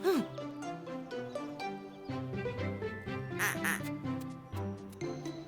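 A cartoon duck quacks repeatedly as it crosses a road where cars have been stopped, the nasal calls clear and close over a busy bed of music.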